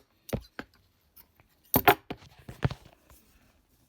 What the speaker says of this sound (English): you're going to measure a 7-inch section of elastic and cut it there.